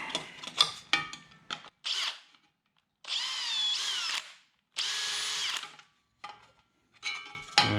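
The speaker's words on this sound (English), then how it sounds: "So I'll just give that a quick drill as well while we're at it." A power drill boring holes through plastic for rivets while fitting out a fishing boat: several whirring bursts, some short and some a second or more long, separated by brief silences and clicks.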